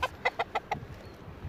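A chicken gives a quick run of five sharp clucks at close range, evenly spaced, with faint low rustling continuing afterward.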